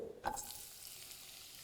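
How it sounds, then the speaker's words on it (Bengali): Thinly sliced onions hitting a hot wok to fry for a soya malai gravy: a short clatter at the start, then a faint, steady sizzle with no talking. "আর পেঁয়াজটা দেওয়ার পরে এটাকে আপনাদের ভালো করে একটু ফ্রাই করে নিতে হবে।"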